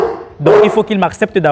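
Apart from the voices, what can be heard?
aggressive dog barking from its cage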